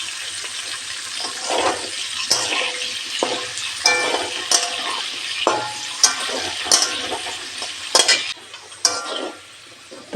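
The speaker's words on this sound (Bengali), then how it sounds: "তো তেলে প্রথমে আমি আলুটা ভেজে নেব।" Potatoes fry in hot oil in a kadai, a close sizzle broken by repeated stirring and scraping strokes at an irregular rhythm, with louder bursts each time the pieces are turned, and no one speaks.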